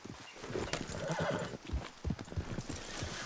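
A horse in Red Dead Redemption 2 clip-clops toward the player and gives a clear whinny near the end, with hoofbeats coming in uneven bursts over ambient game sound.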